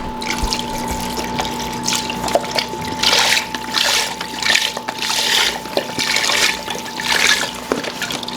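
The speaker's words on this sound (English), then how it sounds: "I'm gonna add a thing of chicken broth to this." Chicken broth is poured into a soup pot with bursts of splashing liquid that start and stop several times over a constant hum in the kitchen background.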